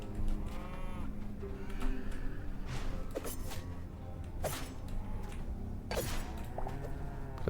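An undead cow in a video game gives a low, drawn-out moo that recurs a few times over steady game background noise, with no talking.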